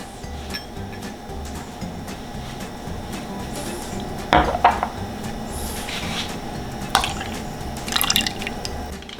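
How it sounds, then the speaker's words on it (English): Baklava syrup is poured into a metal cocktail shaker in a home bar, giving faint trickling and dripping with a few light clinks against quiet background noise. "I'm gonna add the 3/4 ounces of baklava syrup"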